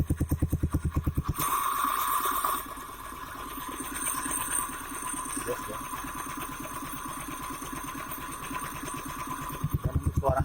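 A Suzuki Spin 125 scooter engine fitted with an RX King carburetor idles steadily with a fast, even putter and a mechanical whine, briefly louder at the start and end, with a short spoken reply.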